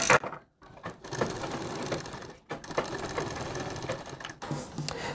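A sewing machine runs close up, stitching a fine seam along a folded edge of a kurti with a round collar, whirring in several steady bursts with brief pauses between them.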